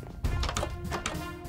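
A door opens with a dull thunk during a tense zombie-survival game played with Nerf blasters at home, a single muffled knock at the start followed by faint rustling and low background voices.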